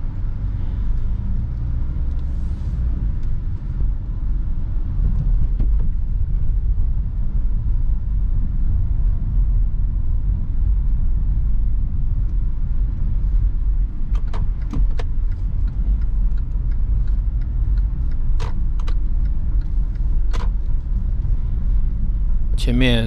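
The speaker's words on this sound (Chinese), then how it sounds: "车辆还是比较多的。" Heard from inside a moving car on Haichang Road in Haining, road traffic rumbles steadily with occasional passing vehicles, and someone talks over it.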